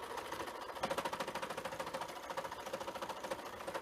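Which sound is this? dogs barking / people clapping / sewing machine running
sewing machine running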